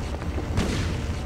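Shotgun blast in the Silent Hill video game, a single heavy boom at close range that rings out briefly.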